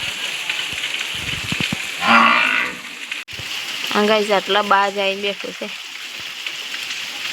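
Steady rain falls on a village, a continuous hiss beneath someone talking, with a cow lowing loudly partway through.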